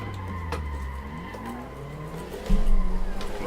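A drift car in Assetto Corsa slides sideways with a sustained tire squeal over a droning, rising engine note, and it swells louder near the end. No one speaks.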